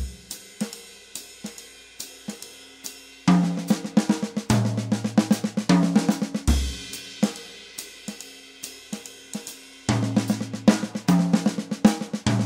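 A 3-4 version of a simple jazz drum fill on toms and snare: recurring bursts of fast snare strokes capped by deep tom hits, close and crisp, with a steady cymbal shimmer carrying under the groove.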